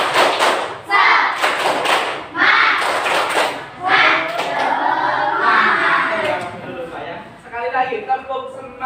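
A group of Indonesian schoolchildren clap in a quick rhythmic pattern, chanting along loudly between bursts of claps.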